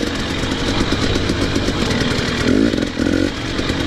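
Motorcycle with a Lectron carburetor runs steadily at a rough, buzzing mid-rev drone, close and loud, with a brief throttle blip near the end and no talking.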